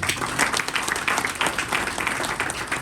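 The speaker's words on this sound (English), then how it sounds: "Please, a round of applause for you." An audience at an event applauds steadily and fairly loudly throughout, a dense clatter of many hands with no pauses and no one speaking.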